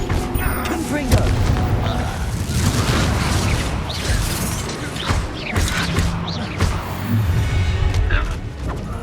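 Confringo fire spell in Hogwarts Legacy bursting in a loud, rumbling blast amid dense combat noise, with booms and crackles continuing throughout and voices speaking over the chaos.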